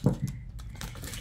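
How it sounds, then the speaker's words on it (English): Plastic shrink wrap being peeled and torn off hardcover books, a quick burst of close crinkly rustling and crackling with small sharp snaps. "It's getting the plastic off without hurting the books."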